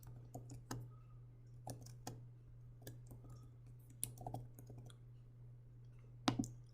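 Sparse, irregular keyboard clicks from typing axis titles into a bar graph on a computer, quiet and close, with scattered keystrokes over a steady low hum and no talking.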